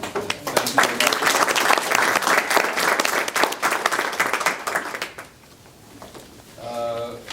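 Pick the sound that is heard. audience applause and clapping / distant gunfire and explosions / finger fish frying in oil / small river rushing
audience applause and clapping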